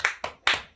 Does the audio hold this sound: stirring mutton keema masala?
no